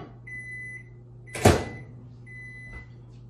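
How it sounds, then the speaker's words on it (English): A microwave oven heats a bowl of chocolate with a low steady hum and a thin electronic tone, broken midway by a loud thump like the door or a handling knock, then the hum carries on. "So I might zap it in the microwave."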